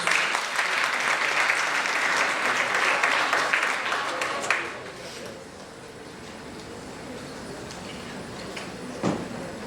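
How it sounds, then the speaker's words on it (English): Audience at a sports conclave applauding steadily for a few seconds after a panelist's introduction, then the clapping fades into a quieter room with scattered claps. "A round of applause for him."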